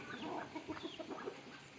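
Native country chickens clucking inside a coop, a cluster of short overlapping clucks and calls from a few birds at close range, steady throughout with no talk.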